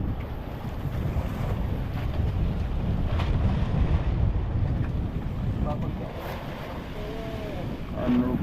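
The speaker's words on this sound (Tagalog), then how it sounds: "norte uli ang hangin" Steady wind roars over open sea around a small fishing boat out after yellowfin in the West Philippine Sea, with low buffeting rumble and wave wash throughout, and voices talking briefly near the end.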